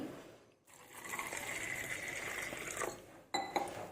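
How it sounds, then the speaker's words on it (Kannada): Water runs steadily into a bowl for soaking chana dal, a continuous splashing fill with a brief clink near the end. "ಇದಕ್ಕೆ ನೆನೆಯುವಷ್ಟು ನೀರು ಹಾಕಿಡೋಣ"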